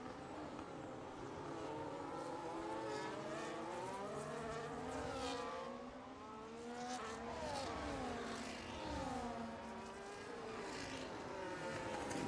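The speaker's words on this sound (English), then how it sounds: "Late braking from Bear G there." Race cars in the F1 25 video game scream along a track, a faint but continuous high engine whine that rises and falls as they brake and accelerate through the corners, heard alone.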